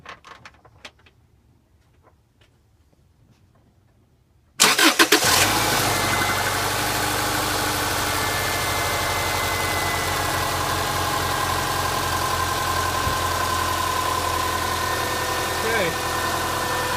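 After a few seconds of quiet with small handling noises, a car engine cranks and catches with a sudden burst, then settles into a steady, even idle that runs on loud and close.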